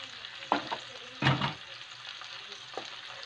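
Chopped cabbage cooking in a pan for a breakfast vegetable dish with a little meat, a soft sizzle underneath a few sharp spatula scrapes and clatters against the pan, fairly close and quiet.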